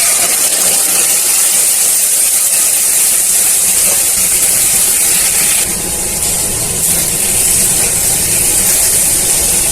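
Mustard and poppy seed paste hits hot oil in a wok, giving a loud, steady sizzling hiss that runs continuously without pause.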